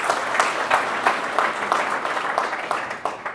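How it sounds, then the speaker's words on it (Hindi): Enthusiastic applause fills a farmers' union gathering in Jind, with many hands clapping steadily and densely throughout, loud and close. "उनके लिए जोरदार तालियां बजा दीजिएगा।"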